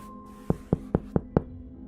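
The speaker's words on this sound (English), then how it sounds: "he's interrupted by the sound of knocking" Someone knocks on the door of a study in a dramatized horror scene, five even, evenly spaced raps, close and solid, over a low steady hum.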